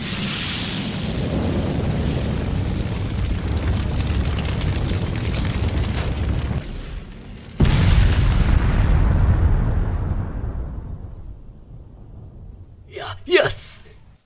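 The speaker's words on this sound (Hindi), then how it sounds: "Fire style fireball jutsu." A Fire Style Fireball Jutsu blast from the Naruto anime erupts as a loud, sustained roaring whoosh. It cuts off sharply, surges again and fades, then a few brief bursts follow near the end, with voices over it.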